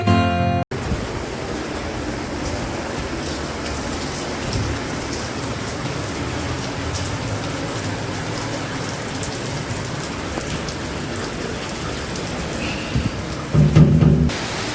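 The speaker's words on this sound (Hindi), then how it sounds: "आजकल ऐसी बारिश आ रही है" Steady rain falling on a Hindi-speaking household's morning, a dense continuous hiss of drops striking surfaces, loud and unbroken from start to finish with a brief clatter near the end.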